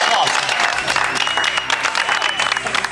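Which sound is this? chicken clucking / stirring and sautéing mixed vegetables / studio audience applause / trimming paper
studio audience applause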